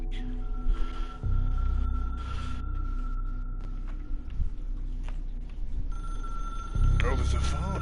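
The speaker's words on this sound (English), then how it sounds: "Oh, there's a phone." A telephone rings in the Control video game with repeated electronic trills over a low ambient hum. Speech-like sounds and game noise are mixed underneath.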